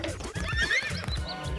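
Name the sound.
horse neighing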